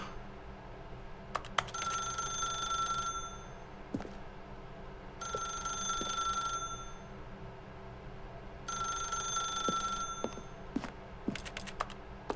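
An in-game telephone rings in The Stanley Parable, three long electronic bursts of ringing separated by pauses, clear and fairly loud, with scattered soft clicks and taps in between.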